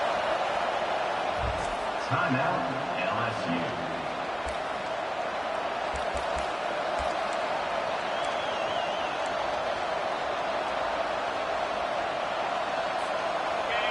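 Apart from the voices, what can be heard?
stadium crowd roaring on third down in college football video game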